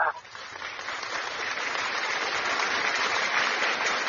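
A group claps together in a steady, dense wash of applause that holds at an even level throughout.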